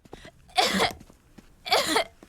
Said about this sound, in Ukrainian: Погуляв з друзями і почав кашляти.